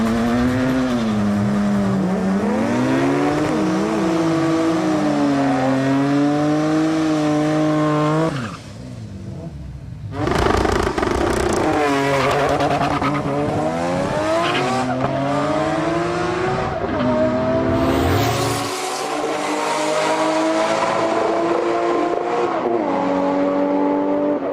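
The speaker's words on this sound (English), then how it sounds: "Almost every car in this class uses Nitto tyres, so big burnouts are essential." Rear-wheel-drive street-tyre class drag cars on Nitto tyres doing burnouts at Sendai Highland, loud revving engines with rising and falling pitch and tyre squeal, a short lull midway before another car roars up, no talk.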